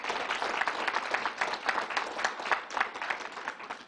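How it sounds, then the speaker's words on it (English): A crowd applauds the National Guard at a COVID-19 vaccination event steadily throughout, dense overlapping clapping at a fairly close, sustained level with no pauses. "Give the whole group and the National Guard a round of applause for what you're doing here."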